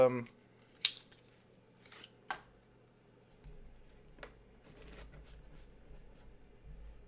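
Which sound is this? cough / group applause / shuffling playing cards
shuffling playing cards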